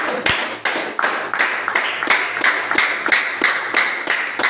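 A congregation clapping in praise of Jesus at a home prayer meeting, loud steady rhythmic claps about twice per second, close and unbroken for the whole stretch.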